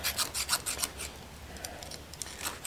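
Hand filing burrs off the edges of a metal skeleton key ring, a quick run of rasping strokes, close and fairly quiet, slowing to lighter scraping toward the end, with no talking.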